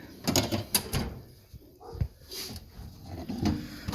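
A drawer in a welding and machinist toolbox slides and clatters with several metallic knocks and rattles, close and moderately loud, with light handling noises between.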